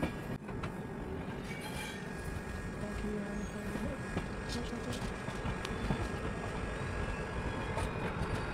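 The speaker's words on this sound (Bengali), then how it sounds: "পাশে একটা ট্রেন ঢুকছে" A train pulls into Nagpur station on the adjacent track, a continuous loud rumble of rolling wagons with faint wheel squeal and rail clatter, heard from a nearby train.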